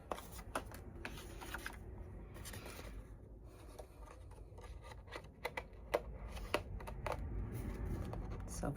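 Paper being cut with scissors while assembling a keepsake folio: quiet, close snips and rustling scrapes of paper in irregular bursts, low in level with no speech.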